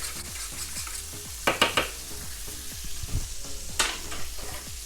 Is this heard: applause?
no